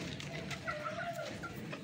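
Gamecocks and young chickens in a coop during rain, clucking softly and at a distance against steady background noise, with no talk.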